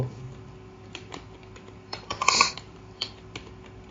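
Computer keyboard keys tapped in a short, irregular burst of typing, with a brief quick flurry of clicks in the middle, close and fairly quiet, no talking.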